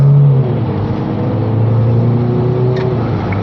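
A 2022 Toyota ProAce City 130 hp van accelerates hard at full throttle, its engine droning loud and close with a steadily rising tone that holds for several seconds.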